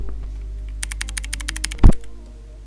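Quick keyboard typing, a rapid run of light key clicks, followed by a single heavier thump, close and with no talking.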